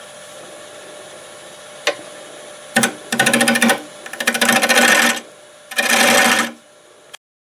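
A drill bores into madrone wood mounted on a wood lathe, running in several loud buzzing bursts of one to two seconds each, separated by pauses over a constant background hum.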